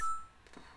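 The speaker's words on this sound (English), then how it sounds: "my phone." A mobile phone gives a short, bright electronic notification beep right at the start, followed by faint quiet background.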